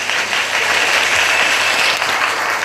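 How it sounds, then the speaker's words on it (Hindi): Dense, sustained applause from an audience fills the whole stretch at a steady, loud level, with no clear break and only faint voices buried underneath. "सभी के लिए ताली हो जाए।"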